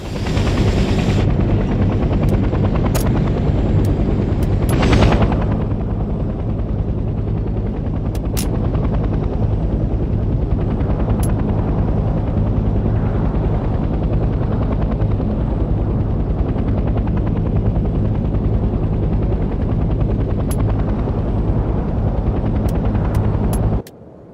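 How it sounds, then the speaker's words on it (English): Transport helicopter in the Hell Let Loose: Vietnam video game, a loud steady rotor thump and engine drone that holds for over twenty seconds, with a few sharp gunshot-like cracks over it before it cuts off abruptly. "The transport helicopter is used primarily to transport squads quickly across the battlefield."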